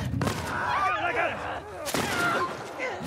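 Gunshots in The Last of Us Part 1: a sharp crack early on and another near the end, ringing over busy game noise while voices talk throughout.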